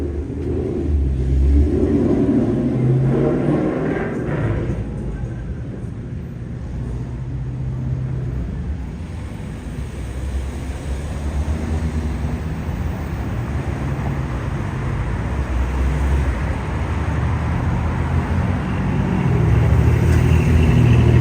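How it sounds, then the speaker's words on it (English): Street traffic on Beverly in East Hollywood, Los Angeles, rumbles continuously with passing vehicles, engines swelling and fading at moderate distance without a break. "we're walking down very noisy Beverly"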